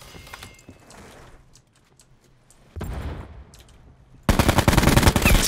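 SMG gunfire in Black Ops 4, with quiet clatter first, then a dense rapid burst that stops and gives way to a second, louder sustained volley at the end.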